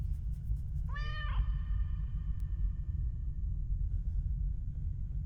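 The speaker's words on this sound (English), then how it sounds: "Didn't pet the kitty." A single cat meow in the video game White Knuckle, a short rising-and-falling call standing out clearly over a steady low rumbling background.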